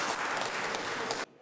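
Deputies at a Kharkiv city council session break into applause, a dense, steady patter of many hands clapping close by for over a second before cutting off abruptly.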